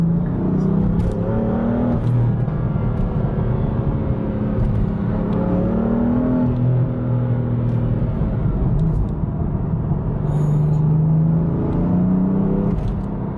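A BMW F80 M3 engine with VRSF downpipes drones loudly and continuously, its pitch rising and falling as it revs toward 5,000 rpm through the exhaust, close and steady.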